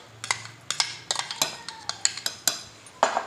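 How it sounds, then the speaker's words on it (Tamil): Cut fruit pieces for a juice drop and clatter into a container, a series of close, sharp clinks and taps coming in an uneven rhythm. "நம்ம கட் பண்ணி வச்சுருக்க எல்லா ஃப்ரூட்ஸும் இதில் போடுறோம்"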